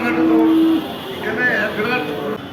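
A Friesian cow moos loudly and close by on a farm in Jessore, Bangladesh, a sustained low call, with people talking over and after it.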